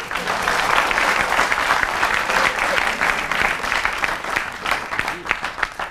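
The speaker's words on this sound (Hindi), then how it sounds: "ताली बजाओ" An audience at a Hindi comedy poetry show claps steadily, a dense sustained patter of many hands with a few sharper claps near the end.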